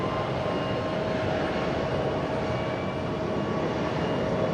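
A Jin Air airliner arriving at Fukuoka airport, heard as a steady, loud jet engine roar with broadband rumble and a faint whine, sustained without break from start to finish and no voices.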